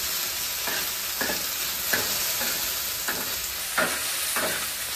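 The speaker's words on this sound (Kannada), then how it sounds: "ಸ್ವಲ್ಪ ಫ್ರೈ ಮಾಡ್ಕೋಬೇಕಿದು" Okra fries in oil with a constant close hiss, while a spatula scrapes the pan in regular strokes about every half second, and no one speaks.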